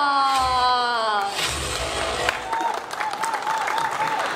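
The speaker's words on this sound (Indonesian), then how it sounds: "Tepuk tangan" Audience clapping at an outdoor bushcraft festival, a brief burst of applause that fades quickly into scattered crowd murmur and background sounds.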